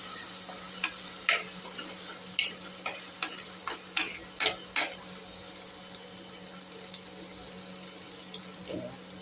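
Masala frying in oil while the oil separates, for papad kuzhambu: a soft, even sizzle runs throughout, with a cluster of small crackles and taps in the middle that fades to a steady hiss.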